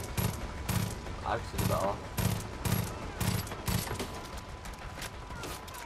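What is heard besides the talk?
explosions and gunfire in video game Far Cry 5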